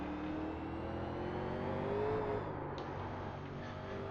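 Late-1980s NASCAR stock car at Martinsville in the iRacing sim, its engine droning and revving under hard throttle with a whirring tone that climbs, then drops back, fairly quiet and steady.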